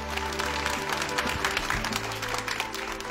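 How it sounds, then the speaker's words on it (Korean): A studio audience at a televised idol audition finale applauds steadily, a continuous, moderately loud clapping wash over a low musical hum, with no clear speech. "다시 한번 큰 박수 부탁드립니다."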